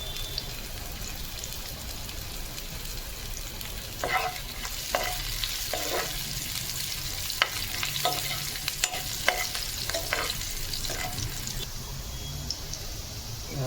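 Chili crackles and sizzles in a hot pan while being stirred, a steady frying hiss punctuated by sharp scraping and clicking strokes of the spoon, close and alone without voices.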